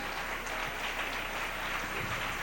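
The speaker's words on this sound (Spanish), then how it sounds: "Den un aplauso al Rey en esta linda mañana" Church congregation applauding during a Sunday morning service, a steady dense wash of clapping heard from a slight distance, continuous and fairly faint, with no speech over it.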